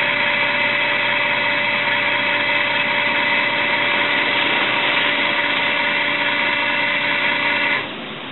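An electric motor drives the cam of a 5-way ball valve actuator with a steady, close mechanical hum and whine that holds level, then drops off abruptly near the end as the power cuts out.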